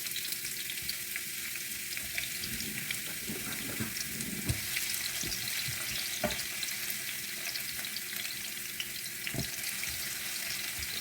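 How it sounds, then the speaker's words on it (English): Onions fry in hot oil with a steady, close crackling sizzle that goes on throughout, with occasional soft stirring knocks and no talking. "So here is the oil. So we add in some onions. Let's fry some onions."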